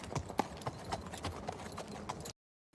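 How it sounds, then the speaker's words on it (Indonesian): A single horse's hooves clip-clop in a steady walking rhythm, each hoof strike sharp and fairly close, continuing for about two seconds before cutting to silence. "Menggunakan seekor kuda sebagai kendaraan sekaligus teman satu-satunya yang ia miliki, Gawain sendirian mengembara"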